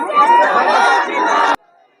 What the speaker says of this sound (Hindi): बीएसपी की भारी मात्रा में लगी हुई भीड़ को आप यहाँ देख सकते हैं।